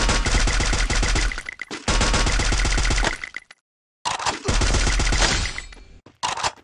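Rapid bursts of gunfire in a battle royale video game, loud and continuous in two long volleys broken by a brief silence, ending in a headshot followed by a few short shots.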